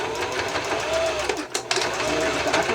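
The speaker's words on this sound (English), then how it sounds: "we're going to sew this several times to hold the elastic in place" Domestic sewing machine running steadily while stitching elastic onto a face mask, a close, continuous mechanical whir with a short pause partway through.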